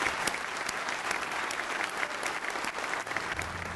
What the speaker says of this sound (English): Please help me applaud Lauren, everyone from Southeast, and all of our District 3 honorees.